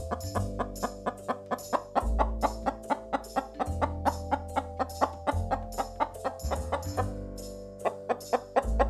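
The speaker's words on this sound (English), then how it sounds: "Chicken." Farmyard chicken clucking in a steady run of short, evenly repeated calls, fairly loud and close, over a soft low musical backing with no talk.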